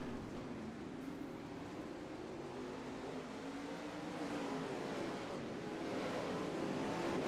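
A 410 sprint car engine drones steadily at a dirt track race in Kokomo, a sustained broadband roar that swells slightly louder toward the end as cars pass, with no talking.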